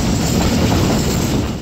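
Train wheels rolling over the track on a line near Mehran Bridge heading toward Hyderabad Junction, a loud, continuous close rumble and clatter without voices.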